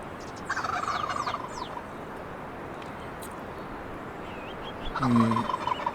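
A wild turkey longbeard gobbles twice in a turkey hunting game, a rattling burst near the start and a louder, closer one near the end, set against steady outdoor background noise with faint bird chirps.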